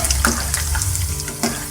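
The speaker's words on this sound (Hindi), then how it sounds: "तो इनको हम तकरीबन 2 से 3 मिनट तक फ्राई करेंगे।" Onion pakoras frying in hot oil, a steady close crackle and bubbling sizzle with occasional sharper pops, heard alone without talk.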